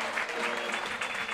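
Applause for both teams at a Spanish football match between Bilbao Athletic and UD Logroñés, a steady crowd clapping that fills the whole moment with no break.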